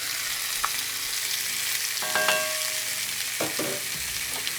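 Garlic, onion and paprika sizzle in a hot pan for a steak and potato hash, with a steady close frying hiss broken by a few scraping, clinking stirs of a utensil against the pan.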